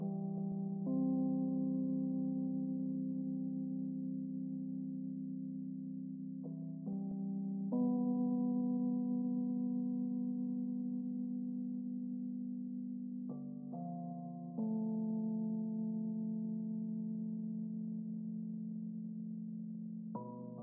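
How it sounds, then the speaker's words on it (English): A lofi beat chord melody of simple triads played in FL Studio through a soft electric-piano style plugin, sustained mellow chords changing every few seconds, clean and alone without drums. "I'll start with the main melody here, and it's actually really simple. I'm just using triads"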